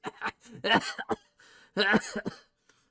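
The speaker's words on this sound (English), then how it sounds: "kind of starts coughing a lot" Someone playing a shriveled goblin character at a tabletop game session coughs several times close to the microphone, harsh rasping bursts with throat clearing between them and a short pause near the end.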